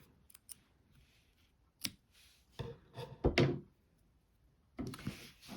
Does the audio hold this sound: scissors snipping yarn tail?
yes